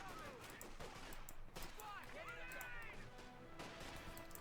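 Rifle squads trade gunfire with Grenadiers in a Company of Heroes 2 skirmish: bursts of rifle and machine-gun fire crackle at a distance amid a steady battle din, with someone talking over it.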